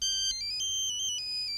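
A phone ringtone for an incoming call chimes in a steady electronic melody of bright repeating tones, fairly close and clear, with no talking over it.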